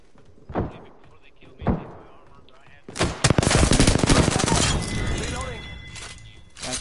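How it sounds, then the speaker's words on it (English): Enemy gunfire in the battle royale game Apex Legends: two sharp isolated shots, then a loud rapid burst of automatic fire that trails off into a sustained rattle and echo. "The enemies are shooting at me."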